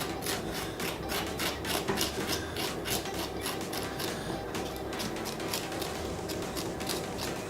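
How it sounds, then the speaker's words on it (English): A knife or spoon scrapes seeds out of a halved vegetable for a sweet potato and white bean chilli, a steady run of short, close rasping strokes with no talk. "Let's just de-seed it, scrape all the seeds out."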